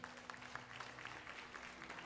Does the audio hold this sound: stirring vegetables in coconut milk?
no